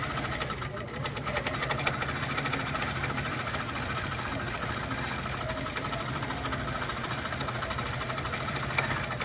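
A long arm quilting machine stitches a quilt block with a constant rapid mechanical hum and needle chatter, running steadily under a person's ongoing talk.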